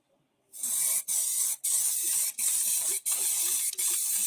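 Spray paint cans hiss in a craft room, giving five or six loud, close, steady bursts, each about half a second long and split by brief silent pauses.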